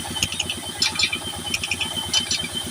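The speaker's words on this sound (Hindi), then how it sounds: "यहाँ में ट्रैक्टर के साथ ये चला रहा है, नया ट्रैक्टर रखा हुआ है।" A new tractor engine drives a wood-cutting saw machine, chugging in a steady rapid rhythm at mid volume with intermittent metallic clinks above it and no talking.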